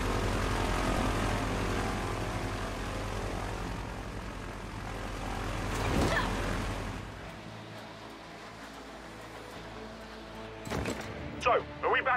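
A propeller plane drones overhead in the video game Gears 5, a loud continuous engine roar that swells and then fades into the distance, followed by a few sharp thumps at the end.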